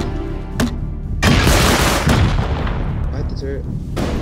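A grenade blast in the survival game Rust booms loudly amid heavy gunfire, with a sharp crack early on followed by a sustained roar of explosive noise that slowly fades, and another burst near the end.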